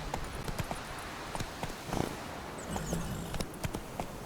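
Horse hooves from The Witcher 3 beat in a steady clip-clop rhythm at a galloping pace, fairly close and moderately loud, with no talk over them.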